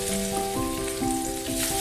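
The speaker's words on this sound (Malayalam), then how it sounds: "നമുക്ക് ഓരോ മീനായിട്ട് അതിലിട്ടിട്ട് ഒന്ന് ഫ്രൈ ചെയ്തെടുക്കാം." Mackerel frying in hot coconut oil, a steady close sizzle with crackling and bubbling throughout and no speech.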